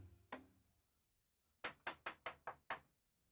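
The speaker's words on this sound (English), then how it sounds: "I knocked on the treehouse door." Knocking on a wooden treehouse door: a single knock, a pause, then six quick evenly spaced raps, close and crisp in a quiet setting.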